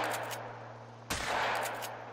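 A single loud gunshot rings out during a duck hunt in The Hunter: Call of the Wild, a sharp broadband crack followed by a short decaying tail over steady ambient background.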